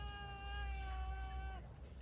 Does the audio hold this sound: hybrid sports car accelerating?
no